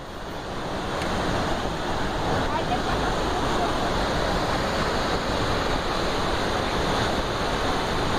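Waterfall at Cachoeira do Prata in Maranhão, a loud, steady broadband roar of falling water heard up close, with wind buffeting the microphone and no pause across the whole stretch.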